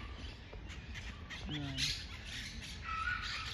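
A green bird in a park gives a short squawking call partway through, fairly faint against outdoor background noise, while people talk nearby.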